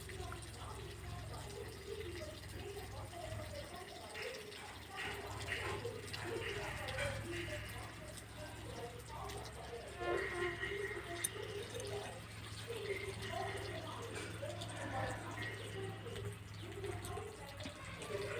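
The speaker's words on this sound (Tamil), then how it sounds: "இந்த தண்ணி ஓடனாலே போதும் போல் மரத்துக்கு." Dishwashing water runs along a channel cut through wet garden soil toward a tree's roots. A steady trickling flow with small splashes persists throughout, and muffled voices sound in the background.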